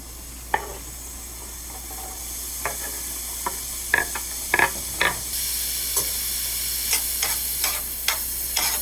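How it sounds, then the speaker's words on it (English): Chopped onions frying in olive oil in a pan, a steady close hiss of sizzling broken by sharp scattered spoon taps and scrapes as they are stirred, with no talking. "We're going to let the onions cook like 3 to probably 5 minutes"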